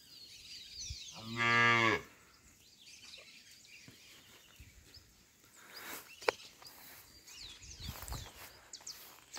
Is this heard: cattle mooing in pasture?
yes